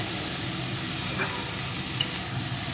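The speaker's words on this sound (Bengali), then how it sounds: "এখন আমি আরেকটু নেড়ে নেব" Drumstick flowers (sajne phul) stirred in a frying pan, giving a steady close sizzle with soft scraping from the spatula and a small clink near the end.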